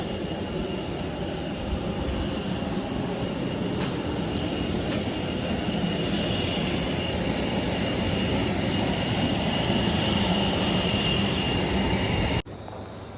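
A loud, steady IndiGo airliner engine drone with a continuous whine after landing, holding even throughout before cutting off abruptly near the end.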